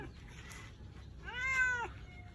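A thick-coated, large male cat meows loudly while calling for a female in heat nearby, giving one short faint mew followed by a longer, drawn-out wailing meow, close up with no talking.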